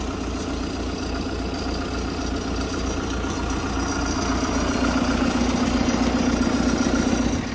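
A tractor engine chugs and clatters steadily and rhythmically at close range in a field, growing slightly louder toward the end, with no talking.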